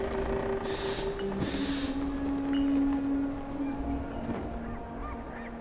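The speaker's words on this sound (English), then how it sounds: "It's quite the bird." Goose-like bird honking inside a hall in the Dragon Age 2 video game, a few loud nasal honks in the first half over steady ambient background noise and faint music.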